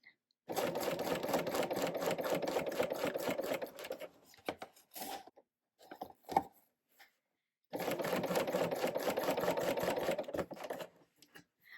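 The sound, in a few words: serger sewing machine stitching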